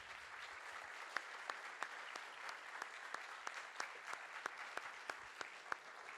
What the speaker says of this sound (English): could we have a round of applause for our presenters again